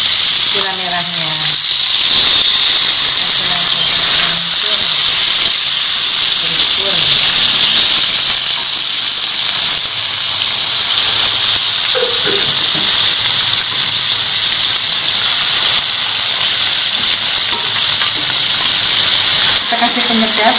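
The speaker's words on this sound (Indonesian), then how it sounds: "Kita kasih air sedikit ya untuk menghancurkan gula merahnya." Water poured into a hot pan to melt palm sugar while cooking spicy anchovies with peanuts, giving a steady loud sizzle and hiss with steamy bubbling throughout, a voice speaking over it.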